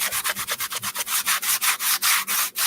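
A sanding block scrubs quickly back and forth over white-painted wood with a black tone on top, roughening it for a farmhouse look. The close, rhythmic rasping strokes come about five per second, with no talk.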